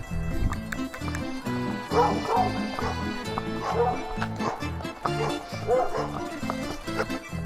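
A small dog barks in a string of quick, high yips, close by and fairly loud, with short pauses between bursts.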